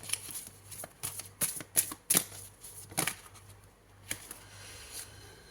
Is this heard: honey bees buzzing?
no